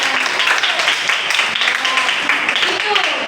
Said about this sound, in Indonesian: tepuk tangan dong buat Akan